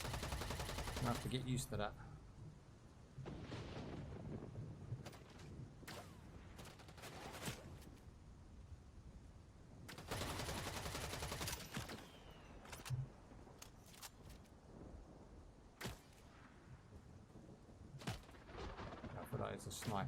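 Sharp gunshots and rapid bursts ring out in the sci-fi shooter EVE Vanguard, coming in separate clusters with quieter stretches between them, while a player speaks occasionally.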